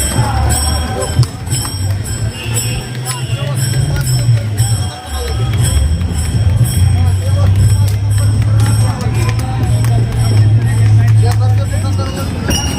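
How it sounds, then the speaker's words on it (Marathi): A large crowd of pilgrims walking in a procession, steady dense babble of many voices close around, with passing traffic rumble and hum underneath throughout. "खूप गर्दी आहे"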